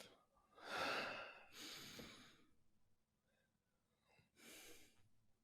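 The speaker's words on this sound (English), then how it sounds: "let's take a breath" Deep breaths during guided breathing: a loud, close inhale followed by a long exhale, then a quieter pause and another strong breath near the end.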